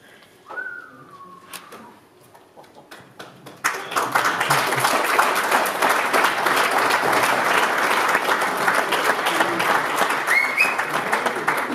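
Indoor audience applause at a bank-financing seminar: a whistle and scattered sounds at first, then sudden sustained clapping from many people that continues steadily, with occasional whistles and cheers.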